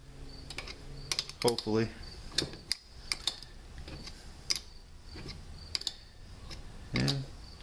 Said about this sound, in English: we're just going to take and run this nut down